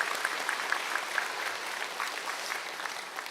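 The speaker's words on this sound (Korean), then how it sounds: "우리 42주년을 맞이하게 하신 우리 하나님께 감사와 영광의 박수 우리 한번 올려드리겠습니다" A church congregation celebrating its 42nd anniversary applauds in a continuous, moderately loud wash of clapping with a few sharper claps standing out.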